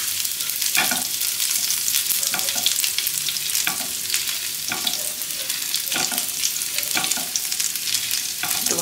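Whole cumin seeds and chopped ginger sizzle steadily in hot oil for kachori filling, a continuous bright frying hiss with periodic stirring scrapes and pops, close and fairly loud, no talking.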